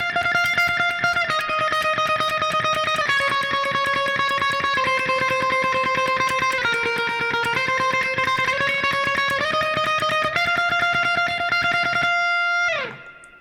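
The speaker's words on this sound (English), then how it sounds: "This is sort of a tremolo picking part that sounds like this." Distorted electric guitar plays rapid tremolo-picked single notes on the first string, stepping between a few pitches in a steady buzzing stream before a final note bends down and cuts off.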